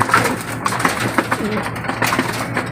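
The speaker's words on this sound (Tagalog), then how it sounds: "Hindi lang maiwasan, mag-away-away sila mga kalapati." Racing pigeons squabble while feeding, with scattered flutters, pecks and soft coos. The sound is close and busy and fairly steady, with a low hum running under it.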